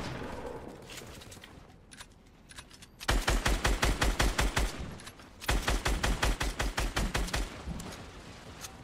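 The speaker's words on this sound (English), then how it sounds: "I'm shooting him down, Casey." Two long bursts of rapid automatic gunfire in the Fortnite video game, each a tight run of evenly spaced shots lasting about two seconds, loud and close, after quieter game sounds.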